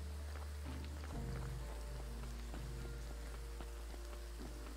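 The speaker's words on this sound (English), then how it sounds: "It's raining." Steady, soft patter of rain in the farming game Graveyard Keeper, with faint scattered drops over a low, continuous hum.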